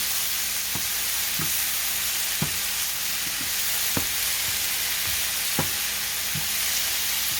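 Food sautéing in a pan over medium heat makes a constant dense hiss, with a spatula stirring and tapping roughly every second, close and steady with no voices.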